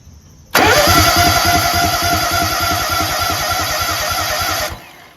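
Kohler EFI engine cranking with the power switched on, a loud rapid pulsing starter churn that runs steadily for about four seconds then cuts off, close up and with no talk.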